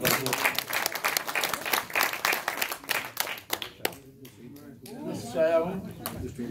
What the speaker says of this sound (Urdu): تالیاں ہو جائے ذرا۔